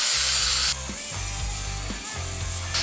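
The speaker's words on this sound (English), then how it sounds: "Grinding down the surface here." A power tool grinds rust off metal while a Cummins 12-valve engine is fitted with custom motor mount brackets, a loud, harsh, continuous abrasive whine with brief shifts in pitch as the tool bears down and lets up.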